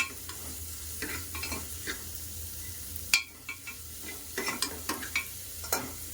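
Chopped onions fry in a pan for sambar, with a faint continuous sizzle under scattered scraping and stirring knocks of a spoon against the pan.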